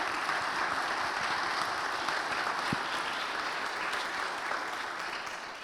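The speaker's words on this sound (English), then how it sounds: "Can we just put our hands together on tonight and just thank God for this evening's discussion?" An audience at an evening panel discussion applauds, a sustained wash of many hands clapping that stays fairly even and then tapers slightly toward the end.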